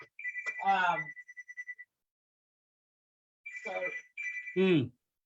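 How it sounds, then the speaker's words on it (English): A phone rings in short electronic pulses while a person talks, the ringing tone recurring across the moment at moderate volume. "my phone is ringing."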